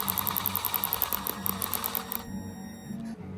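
A Milwaukee power drill slowly drives bolts into the tachometer of a 1984 third-generation Camaro, its motor whirring in quick, rhythmic pulses for about two seconds before falling quiet.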